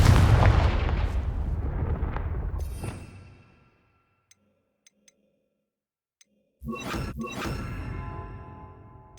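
Confringo blast spell cast in the Hogwarts Legacy video game: a loud booming burst that rumbles and fades over a few seconds, a short near-silent gap with faint ticks, then another loud blast with crackling debris.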